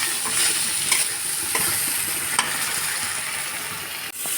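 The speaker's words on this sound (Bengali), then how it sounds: "সমস্ত কিছু একসাথে মিক্স করে নেড়ে চেড়ে পেঁয়াজটাকে হালকা ভেজে নেব।" Onion with coriander powder frying in a pan, a continuous loud sizzle with a few soft scrapes and knocks of the stirring spoon; nobody talks.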